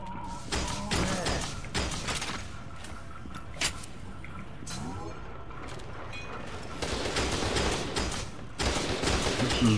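Shotgun fire in the video game F.E.A.R. 2 goes off in repeated loud, sharp blasts at an uneven rhythm, mixed with other combat gunfire, impacts and game noise throughout.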